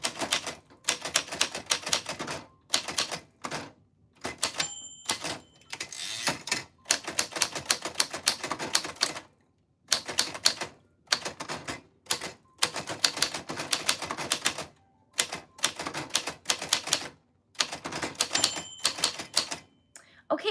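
A typewriter is typed on in rapid bursts of crisp key strikes, broken by short pauses and carriage moves, close and clear with no talking.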